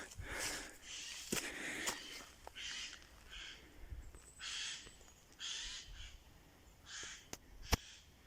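Harsh, rasping alarm calls of a Eurasian jay in an oak forest on the foothills of the Massif central in Ardèche, a series of loud screeches in irregular bursts with a few faint footsteps and twig snaps.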